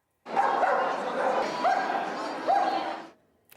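Dogs visiting a museum exhibition in Athens, with yips and whimpering barks rising over steady, close news narration for about three seconds.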